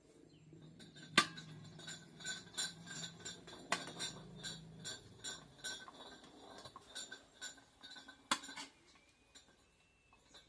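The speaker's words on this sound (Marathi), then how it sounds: "आता अंडे आपण कापून घेऊ" Eggs being cut with a knife while preparing a rustic village egg curry, a series of light metallic clinks and taps against a plate, irregular and close, with a few sharper knocks and no talking.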